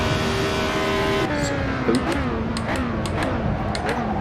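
A 1973 race car at the Zandvoort circuit in Assetto Corsa drones at high revs, with the engine pitch dropping on downshifts and sharp gear-change blips repeating, loud and close, with someone talking over it.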